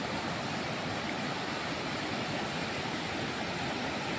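Steady, dense rushing of a river flowing, constant and fairly loud throughout with no pauses.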